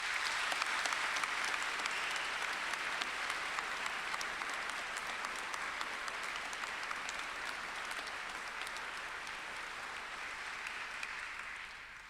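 Applause at a university graduation ceremony: a large audience claps in a broad, sustained roar filling the hall, steady and even for about twelve seconds before starting to taper off.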